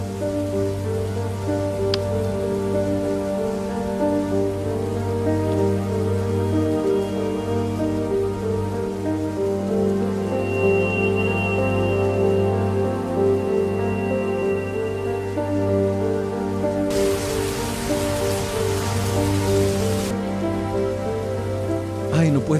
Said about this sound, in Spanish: Y ahora está lloviendo a cántaros.